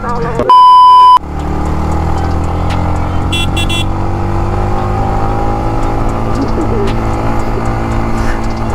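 A motorbike climbs uphill toward a hilltop viewpoint in Bongaigaon, its engine a continuous close droning whine that rises slowly in pitch, briefly interrupted near the start by a sharp electronic beep and a few short chirps.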